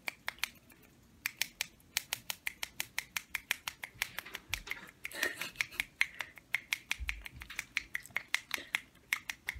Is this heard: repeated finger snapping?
yes